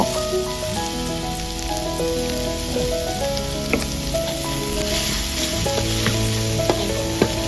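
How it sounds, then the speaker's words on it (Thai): River snails stir-fry with chili and holy basil in a hot pan, making a loud, dense, continuous sizzle like heavy rain, with scraping and clattering from stirring and occasional sharp pops. "คนให้เข้ากันนะเจ้าให้กะเพรามันซุปหน่อยเจ้า"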